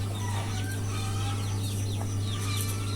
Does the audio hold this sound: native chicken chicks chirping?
yes